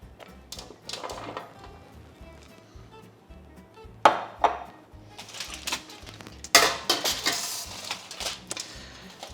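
Thyme, quartered lemon and aromatics dropped into a roasting pan for a Thanksgiving turkey, giving soft rustles and a few sharp clanks and taps against the metal, quiet and close with no talk.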